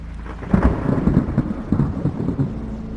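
Heavy rain falls steadily while deep thunder rumbles and rolls in several swells, close and loud, making a stormy horror-story backdrop with no voices.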